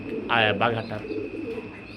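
Bombay satin beauty koka pigeon giving a soft, close coo in two short pulses, followed by quieter low murmuring in a calm indoor setting.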